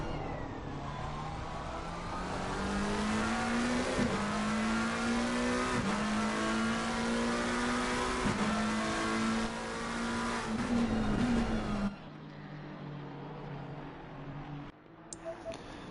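A Ferrari race car in the racing game Assetto Corsa Competizione at Hungary, its engine screaming as it accelerates through repeated upshifts with rising pitch, then dropping abruptly to a quieter idle-like tone near the end.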